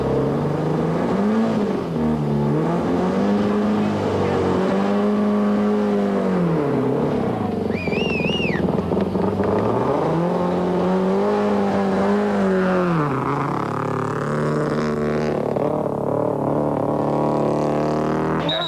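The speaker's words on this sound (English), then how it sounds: "by hitting the water at speed, uses the undercarriage skid plate to aquaplane the car over the crossing" A rally car, a Mitsubishi Conquest, drives at speed through a river crossing on a 1995 Castrol International Rally stage, its engine loud and rising and falling as it pushes through the water, close and continuous.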